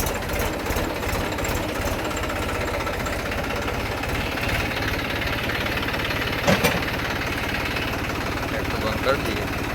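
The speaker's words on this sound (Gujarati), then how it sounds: "આજે આપણે આખો દિવસ ટ્રેક્ટર રોટાવેટરમાં ચાલુ હતું" A tractor engine runs steadily while driving a rotavator through farm soil, a continuous close, rough mechanical rumble with a few brief louder knocks near the end.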